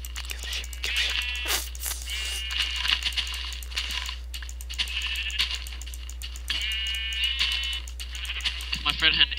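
Several short, nasal bleats from blocky Minecraft sheep over a constant low hum, with voices talking throughout.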